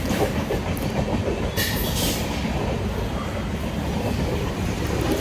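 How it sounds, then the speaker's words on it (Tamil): A Tirunelveli–Jamnagar passenger train with LHB coaches rumbles steadily past nearby, wheels clattering over the rails with a continuous roar and a brief metallic squeal. "இது திருநெல்வேலி ஜாம்நகர் ட்ரெயின்"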